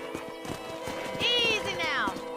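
A horse in the Red Dead Redemption video game on a ranch, soft hoof clops under a voice, then a clear rising-and-falling whinny rings out mid-clip.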